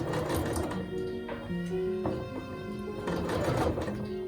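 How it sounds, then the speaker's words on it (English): Sewing machine stitching reverse locks on a skirt seam, a steady close mechanical whirr with stop-start changes in pace as it runs back and forth, no talking. "sew the reverse locks on the beginning and on the end"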